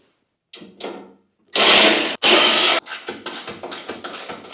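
Panels being taken off an AGT WH12R mini excavator: a few close clanks and rattles, then loud buzzing bursts of a power tool separated by short gaps, followed by quicker rattling mechanical pulses, with no talk.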